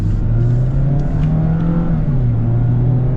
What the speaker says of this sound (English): You do get more road noise with this though.